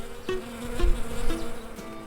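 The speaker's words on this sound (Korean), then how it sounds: "꿀벌은 특히 벌통 근처에서 이런 소리를 내는데 사실 이 소리는 포유류의 접근이 두려워서 내는 경고랍니다" Honeybees buzz near their hive in a steady, close droning hum with a few swelling pulses as bees pass by, and no voices.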